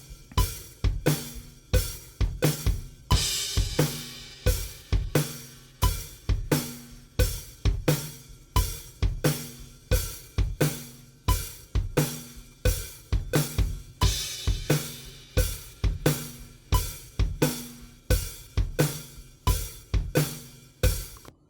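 A soloed scratch drum track, edited in Cubase, plays a steady loud groove with regular kick and snare hits and bright cymbal crashes, locked to a metronome click, with no talking.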